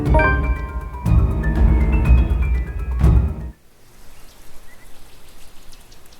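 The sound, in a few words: rain downpour in a video game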